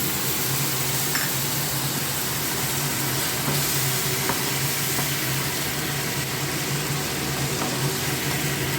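Katla fish curry spices frying in oil with water just poured in, giving a steady close sizzle and hiss that holds at an even level throughout with no pauses.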